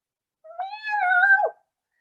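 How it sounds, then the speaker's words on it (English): A kitten gives a single drawn-out meow lasting about a second, clear and close, rising then falling, with silence before and after. "the kitten simply poked its head out of the collar and meowed at Sarah again."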